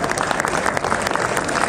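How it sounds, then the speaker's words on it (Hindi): An audience at a college project exhibition and industrial expo claps in a burst of dense, steady applause that fills the room for a couple of seconds. "मैं सर के लिए भी चाहूंगा और जितनी भी एससीडी बोर्ड मेंबर्स हैं उनके लिए भी जोरदार तालियां बजाएं।"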